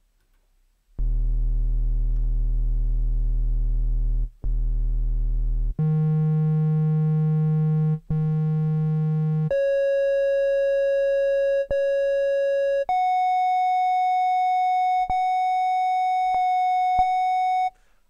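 Triangle waveform from a UB-Xa or OB-X8 polyphonic analog synthesizer, sustained single notes stepping upward in pitch across several registers, each held a few seconds with brief gaps, clean, steady and close with no talk.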